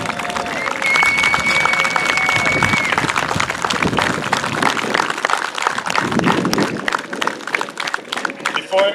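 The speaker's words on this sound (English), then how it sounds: "Give them a round of applause again" Dense applause from a large crowd at a graduation ceremony fills the space, steady and loud throughout, with a few voices and faint tones mixed underneath.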